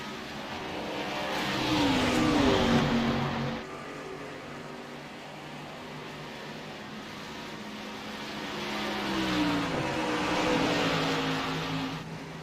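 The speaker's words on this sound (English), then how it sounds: "Oh, I hear another car going around." A race car circulates on the Watkins Glen track, its engine rising to a revving whine as it passes, fading, then swelling again in a second faint pass heard from a distance.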